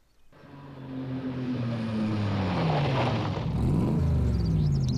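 A car engine revs and accelerates in Phoenix Wright: Ace Attorney Spirit of Justice, rising to a loud, sustained roar with a sweeping pitch climb and no talking over it.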